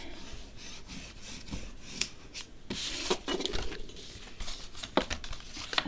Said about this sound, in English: you need to burnish it straight away, really, if you've got glue